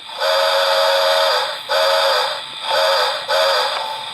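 Four close, loud toots of a steam whistle from a Lionel HO Polar Express Berkshire model locomotive, each a sustained breathy chord with short gaps, the last two slightly shorter.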